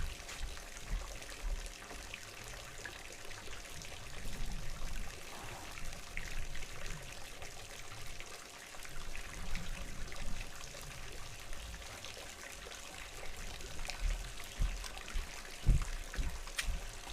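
Tap water pours steadily into a small Lego aquarium tank, a continuous close trickling and splashing stream with no talk.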